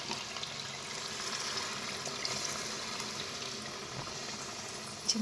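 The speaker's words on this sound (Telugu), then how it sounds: "ఇప్పుడు చింతపులుసు పోసేసుకుంటాం వీటికి" Tamarind juice is poured into a hot pan of fish curry with onion paste. It makes a soft, steady sizzling and liquid wash at close range, fairly faint, with no talking.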